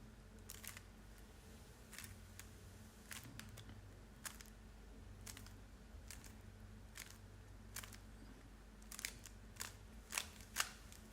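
A 3x3 Rubik's cube turned one-handed, giving a series of sharp plastic clicks spaced irregularly, quickening into a faster cluster near the end, close but quiet over a low hum.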